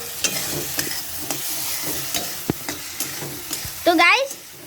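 Potatoes fry in hot oil over a medium gas flame for a Navami special ghugni, with a steady sizzle broken by sharp spoon scrapes and stirring knocks, plus a brief high chirping tone near the end.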